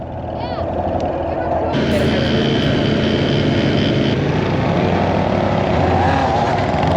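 Several dirt bikes ride together in a group of kids off-road in Alaska, with a steady, loud motor drone that fills the whole clip and thickens after a couple of seconds. A voice talks over it.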